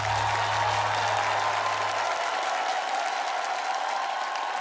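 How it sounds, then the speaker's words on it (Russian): Sustained applause from a crowd, even and continuous throughout, with a low hum fading out early on. "Аплодисменты."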